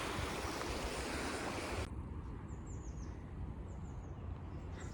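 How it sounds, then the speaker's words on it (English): Steady rushing water along the Water of Leith walkway in Edinburgh during rain, a dense broadband wash that is louder for the first two seconds and then softer, with faint high chirps above it and no talking. "you can stand underneath them and just hear like the echo of the water"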